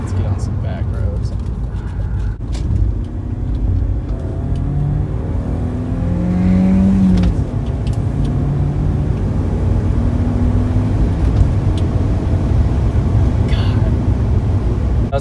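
A BMW E36 drives along back roads, heard from inside as a steady engine drone with road rumble and a brief rise in revs midway, continuous and fairly loud.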